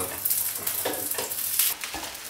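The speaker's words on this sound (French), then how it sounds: "Pour cette cuisson, il faut que l'huile soit très chaude pour pas que les bords que j'ai retournés se décollent." Brick pastry fries in very hot oil, giving a close, steady sizzle and crackle with occasional soft taps and stirring sounds.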